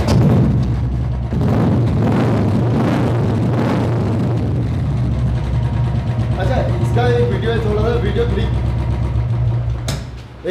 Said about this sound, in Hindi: नया एक ये डॉल्फिन साइलेंसर होता है, मैं आपको एक साउंड सुना देता हूँ